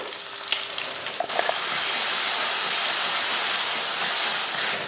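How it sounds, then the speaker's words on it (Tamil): Okra with onion and garlic sautéing in a pan for a school lunch-box dish, a steady broadband sizzle that starts softer and grows louder and constant after a brief clink, close and without talk. "நம்ம வதக்கின வெண்டைக்காயை சேர்த்துருவோம் அதையும் சேர்த்து லைட்டாக வதக்கி விட்டுருவோம்"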